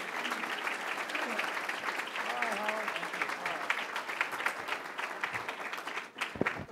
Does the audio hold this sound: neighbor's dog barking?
no